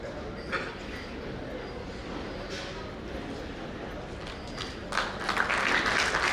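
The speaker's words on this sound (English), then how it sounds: "Round of applause for all the degrees" Audience at an architecture knowledge-sharing ceremony giving a round of applause, moderate clapping that swells louder near the end, with a voice speaking over it.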